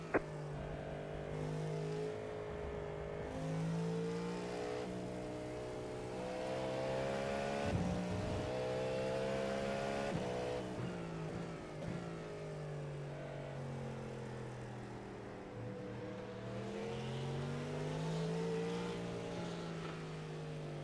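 Race car engines in the iRacing game during an IMSA series race drone and whine steadily, with pitch rising and falling through gear changes as cars pass close by, loud and continuous for about twenty seconds.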